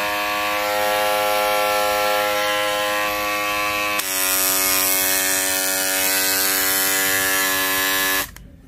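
A Grundig electric foil shaver buzzes loudly and steadily up close, its tone shifting slightly midway, then it switches off.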